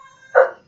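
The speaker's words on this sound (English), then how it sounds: "the dog has started to bark" A single short dog bark rings out in a quiet home room, one sharp close yelp against near silence.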